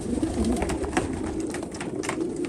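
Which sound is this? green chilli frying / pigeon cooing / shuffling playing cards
pigeon cooing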